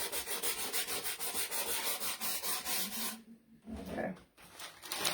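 Wood being hand-sanded for a Christmas ornament sign, rhythmic close back-and-forth rasping strokes that stop briefly before a few softer rubs resume.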